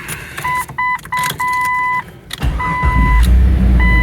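A 2000 Jeep Cherokee XJ sounds a short series of steady electronic warning chimes, then cranks briefly and catches, settling into a close, low, rumbling idle.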